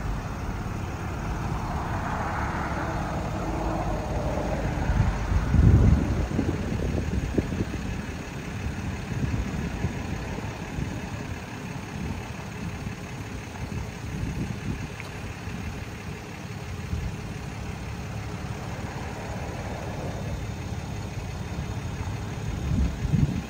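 Bus engine idling at a stop in Rialto, a continuous low rumbling hum that holds steady for over twenty seconds, with a couple of brief thumps and passing background noise.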